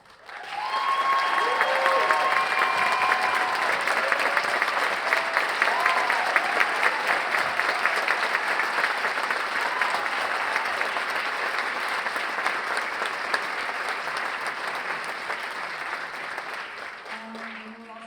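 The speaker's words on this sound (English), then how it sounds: "Please stand for a round of applause." Applause from the audience at the world premiere screening and Q&A of the short film "Unfortunate Son" runs steadily and evenly for a long stretch, with a few voices faintly heard over it early on.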